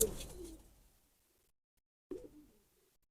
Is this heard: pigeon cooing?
yes